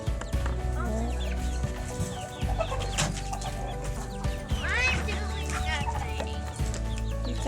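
Chickens cluck and a rooster calls intermittently nearby over a steady low hum, with people talking now and then.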